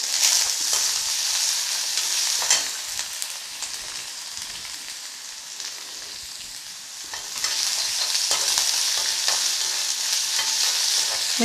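Cashews frying in a hot tempering for mango rice, giving a dense continuous crackling sizzle that swells and eases with stirring, close and fairly loud.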